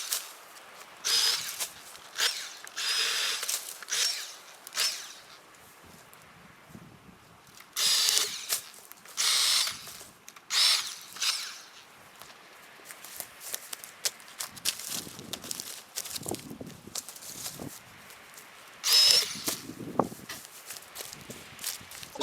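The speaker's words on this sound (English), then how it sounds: "So Dad got one of these Milwaukee mini chainsaws." A Milwaukee cordless mini chainsaw cuts tree branches outdoors in repeated short bursts of high whining motor noise, separated by quieter pauses with rustling and footsteps.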